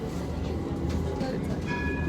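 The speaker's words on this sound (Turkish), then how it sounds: "Tramvaya bindik." A steady rumble fills the inside of a moving tram, with rail squeal tones rising near the end and a faint voice in the background.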